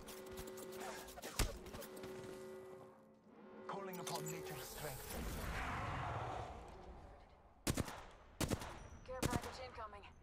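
Gunfire in the battle royale video game Apex Legends, with rapid automatic bursts and sharp single shots, whooshing effects and mechanical game sounds, while character voices speak over parts of it.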